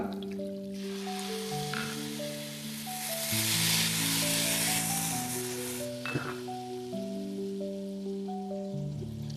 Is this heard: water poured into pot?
yes